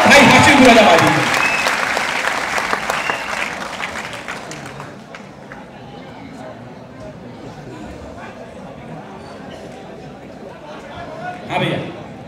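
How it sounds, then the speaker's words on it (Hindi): Loud applause from the audience at a Hindi kavi sammelan poetry gathering bursts out at once, then thins into scattered claps and murmuring chatter, with one brief flare of clapping near the end. "तालियां"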